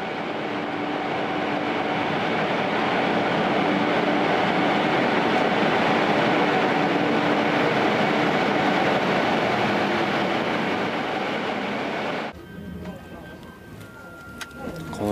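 A night train pulling out of Lanzhou station in China gives a loud, steady rumble of rolling wheels and carriages that holds for most of the stretch before cutting to a quieter interior sound.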